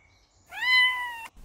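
A single domestic cat gives one clear, drawn-out meow, close and distinct against near silence.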